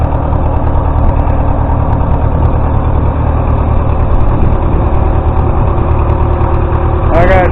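An old 630 tractor engine runs at a steady idle, with a loud, close, continuous throbbing drone that holds even throughout, with a brief higher whine near the end.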